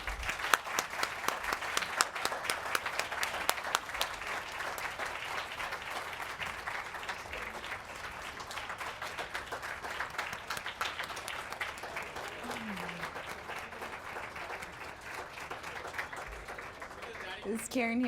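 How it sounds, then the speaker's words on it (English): Audience applause for Dr. Shaw at a spring representative assembly, a steady crowd clapping that fills the room for about eighteen seconds, dense and even throughout, with a few voices near the end. "please join me in a round of applause thanking Dr."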